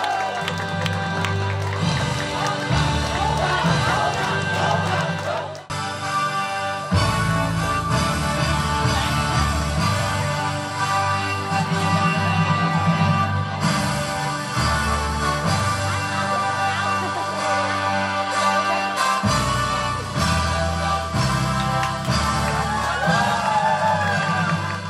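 Wedding guests at a Vietnamese ceremony cheer and clap for the bride and groom, crowd noise and applause mixed with loud music throughout, with abrupt shifts and a few whoops.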